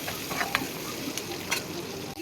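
Onions sautéing in hot oil for a meal maker gravy, a continuous close sizzle with a few scraping stir sounds breaking through.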